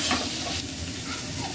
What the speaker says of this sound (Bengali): ভেজে রাখা আলুগুলো দিয়ে দিল